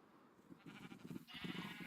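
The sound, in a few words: sheep bleating in the video game Minecraft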